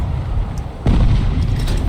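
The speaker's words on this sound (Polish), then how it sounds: "Oddajemy ten strzał i wchodzi piękniusio." A tank cannon in the War Thunder video game fires a single sharp, loud boom at a German Tiger tank, followed by a sustained low rumble.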